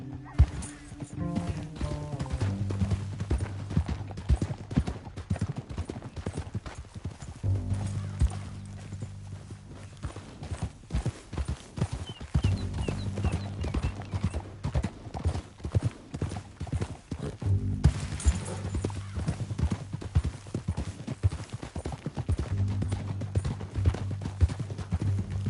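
Horses gallop in the video game Red Dead Redemption 2, a steady rapid clip-clop of hooves that runs loud and close throughout, with brief whinnies and a low rumble underneath.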